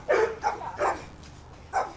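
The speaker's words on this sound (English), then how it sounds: "My dogs need to stop barking." Several dogs, among them a large pit bull, bark indoors in four loud, close bursts with short gaps, the last one after a brief pause.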